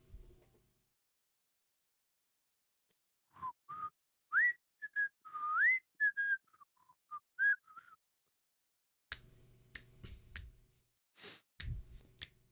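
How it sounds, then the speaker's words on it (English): A person whistles a short tune in a string of clear, wavering notes. It stops after a few seconds, followed by several sharp, close finger snaps and taps. "He's whistling some fine tunes."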